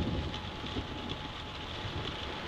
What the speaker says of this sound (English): And it be raining.